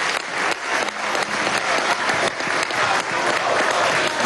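Sustained audience applause fills the air at a public housing handover ceremony in Venezuela, a dense, steady wash of clapping from a large crowd with no break.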